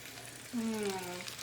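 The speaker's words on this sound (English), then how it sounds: "Now they're sizzling." A soft sizzle of lobster frying in a pan, with a brief whistling tone partway through; no talking.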